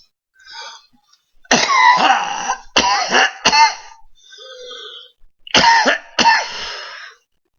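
Several harsh, close coughs in quick bursts, with a couple of throat-clearing sounds between them and short pauses of quiet.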